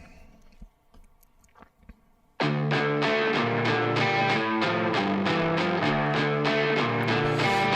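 A re-recorded guitar riff panned 30% left: faint scattered ticks, then an abrupt entry of loud, distorted guitar chugging in a tight, driving rhythm that holds to the end.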